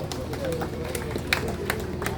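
An audience at a Korean commemorative gathering applauds an introduced guest, with scattered claps and murmuring voices over a steady room hum.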